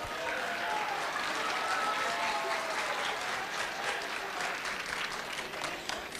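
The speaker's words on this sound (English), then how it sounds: "round of applause for the senator" Steady applause from a room of participants at a senate simulation, a dense even clatter of many hands sustained for several seconds at moderate level with no speech over it.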